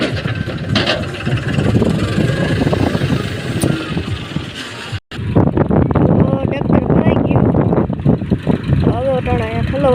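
A loader engine runs steadily nearby while filling a tractor trolley, its mid-pitched rumble continuous under people talking, briefly cutting out halfway before resuming with more voices over it.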